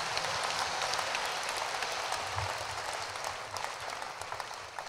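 A congregation at a church revival service claps together, a thick, sustained patter of many hands that stays full and steady from start to finish.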